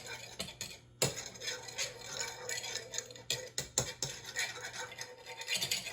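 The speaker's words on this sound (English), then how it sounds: "Now we're going to mix everything together." Egg batter with cinnamon being whisked together for French toast, a steady scraping and clinking of utensil against bowl with brief pauses, close and continuous.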